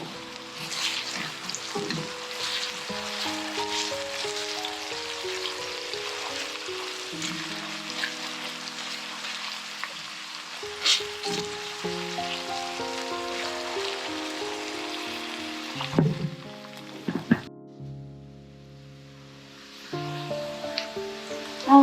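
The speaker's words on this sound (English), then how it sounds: "it helps the onions to fry faster" Onions frying with a pinch of salt for an East Indian chicken curry, a steady close sizzle and crackle with a few stirring clatters near the end, over soft background music.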